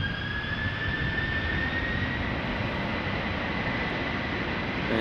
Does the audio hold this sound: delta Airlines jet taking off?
yes